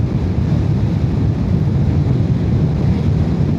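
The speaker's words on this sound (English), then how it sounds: "Oh, it's really windy now, you probably can hear it right against me." Strong wind buffeting the microphone of a rider on a 2025 Yamaha R125 motorcycle, a loud, constant low roar filling the whole stretch with no break.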